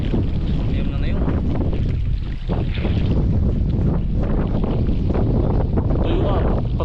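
Strong wind blows steadily across an open cornfield and rice paddy in San Fernando, buffeting the microphone with a loud, constant rumble throughout; someone speaks over it at times.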